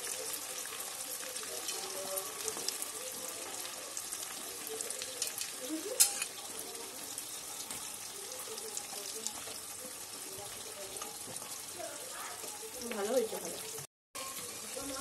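Onion frying in a pan for a fried rice and chili chicken meal, a steady broad sizzle running throughout with faint stirring scrapes and a brief louder clink near the middle, a voice talking quietly underneath.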